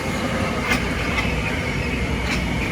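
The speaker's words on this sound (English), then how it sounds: "There's the local train" A Metro-North local commuter train at Bronxville station gives a steady, loud rumble of passing railcars, with faint wheel clatter and a few brief squeals over the continuous noise.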